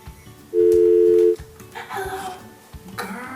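A phone line tone sounds as a steady beep lasting nearly a second, followed by brief faint tones under room noise and light talk.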